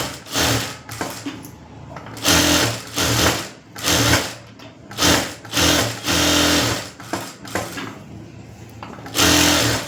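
A sewing machine stitches lining into a blouse in loud bursts of rapid whirring, starting and stopping repeatedly, each run lasting a second or two with short pauses between.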